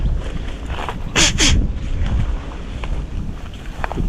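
Wind gusts steadily across open water on a fishing outing from a boat, a loud, continuous rumbling buffet against the microphone with a brief stronger surge, and no talk.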